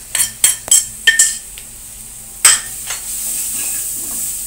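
Spices such as coriander, turmeric and red chilli powder being stirred in a pan with a spoon, several sharp metallic clinks and scrapes against the pan over a faint, steady sizzle.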